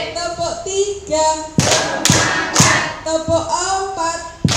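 A standing group of teachers claps in unison in a counted pattern, sharp thuds landing about every half second in the middle, with a guiding voice speaking between the claps.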